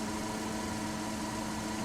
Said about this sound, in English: he is really revving that car up, isn't he, there?